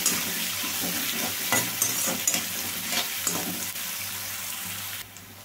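Onion pieces and green chili pieces frying in a pan: a close, steady sizzle with soft stirring scrapes that cuts off suddenly near the end, leaving a faint hiss.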